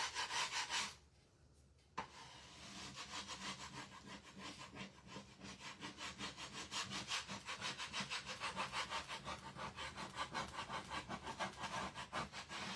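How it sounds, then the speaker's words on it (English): A scraper tool drags across waxed, painted wood on a rustic Easter star craft, peeling the paint away in steady, rapid back-and-forth rasping strokes, close and continuous after a brief pause near the start. "And everywhere that we had the wax, it is scraping off the paint."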